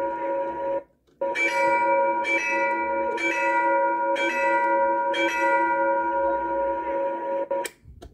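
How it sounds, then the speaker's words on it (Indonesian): An N scale (1/150) model railway level crossing bell rings in a steady series of evenly spaced metallic dings, close and clear, after a brief pause near the start. "Kita atur timing genta nih."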